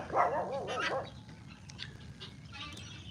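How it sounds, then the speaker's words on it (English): A small dog on a farm lets out a quick cluster of sharp, yipping barks close by at the start, then falls quiet over low background noise. "Woody's barking because Buster got upset."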